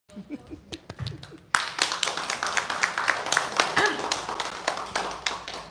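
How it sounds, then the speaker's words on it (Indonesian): Audience clapping at the close of a religious study gathering, starting with a few scattered taps and then breaking into full, dense rhythmic applause from many hands, with brief talk at the start. "Tepuk tangan dulu."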